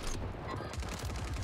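A short stretch of heavy video-game gunfire from a Rebirth Island match with a KAR98K rifle: close, dense cracks and booms packed together with no pause, loud throughout.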